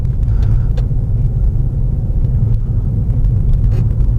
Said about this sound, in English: I'm about to get overtaken by a truck